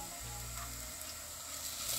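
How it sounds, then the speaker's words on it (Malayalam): Fish curry frying in a pan as Kashmiri chili powder is stirred in, a steady close sizzle with faint scraping, low in level and without talk. "2 ടീസ്പൂൺ കാശ്മീരി ചില്ലി പൗഡറും ആഡ് ചെയ്ത് കൊടുക്കാം. ഇത് നന്നായി യോജിപ്പിക്കാം."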